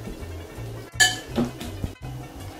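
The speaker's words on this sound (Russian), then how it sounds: "Разминаем вилкой." A fork clinks and scrapes against a bowl a few times while a banana is mashed, close and fairly quiet.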